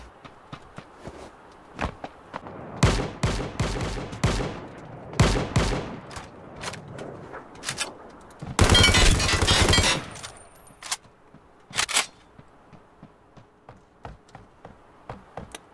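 Gunfire in the battle royale game Ring of Elysium: loud bursts of automatic fire at irregular intervals, including one sustained volley, with softer footsteps and scattered taps between the shots.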